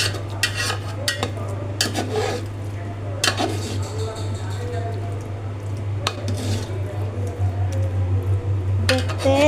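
Vegetable and meat khichuri being stirred in a pot with a metal spoon: repeated scraping and clinking strokes close by, over a steady low hum.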